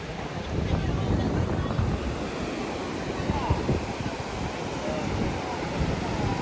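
Steady broadband roar of strong surf on Vadarevu beach near Chirala, Andhra Pradesh, continuous and fairly loud, with wind buffeting the microphone throughout.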